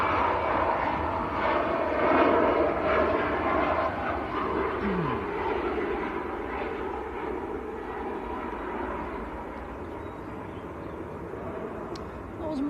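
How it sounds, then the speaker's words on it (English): Ethiopian Airlines airliner taxiing at Manchester Airport, a steady broad jet engine roar held at moderate distance throughout, slowly easing in level, with a brief dog bark and faint chatter in the background. "Ethiopian just taxiing out."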